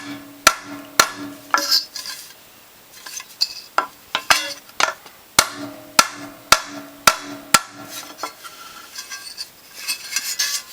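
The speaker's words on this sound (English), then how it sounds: "we're going to pound out that dent and any other dents that we find" A hammer strikes the metal upper press plate of a Norwalk juicer to pound out dents, giving sharp, ringing metallic blows in irregular bursts with short pauses between, close and clear.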